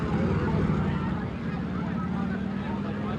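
Four police motor scooters arriving at a street demonstration, heard as a steady, fairly close engine drone with a windy, noisy background.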